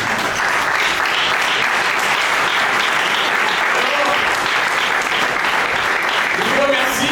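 Steady, loud audience applause fills a hall at an eloquence contest semi-final, a dense unbroken clapping from a large crowd with a few voices cheering through it.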